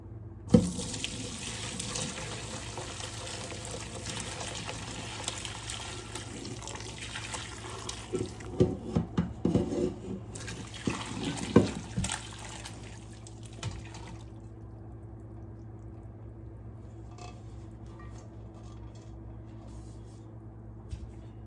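Bone broth from an Instant Pot pours through a strainer into a big bowl, a steady close splashing stream with a few louder spatters midway, easing off into a quieter trickle and drip toward the end.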